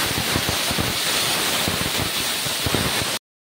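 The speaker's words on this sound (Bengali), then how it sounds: "এবার আলুগুলো দিয়ে দেব।" Potatoes frying in hot oil in a wok, with spices already sizzling, give a dense, steady hiss and crackle close by for about three seconds, with no talking, before the sound cuts off abruptly.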